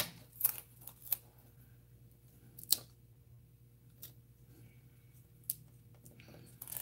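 Scissors snipping paper to even off a cut while making a rose-garden shaker card, a handful of sharp isolated clicks and snips spread across a quiet room, close and fairly faint.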